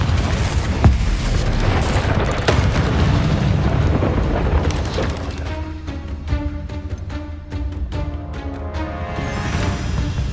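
Confringo, the explosive blast spell in Hogwarts Legacy, erupts as a loud rumbling boom that roars for several seconds and then breaks into sharp crackling bursts and ringing magical tones.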